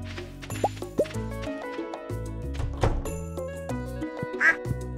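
Duck in the Stardew Valley video game giving a few short quacks amid the game's steady music and soft thumping effects.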